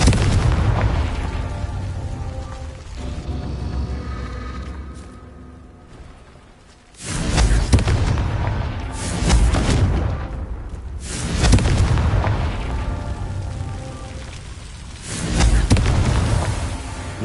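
Repeated Confringo fire-spell blasts in Hogwarts Legacy, loud booming bursts arriving every few seconds, each with a heavy low rumble that decays before the next, alone with no talk.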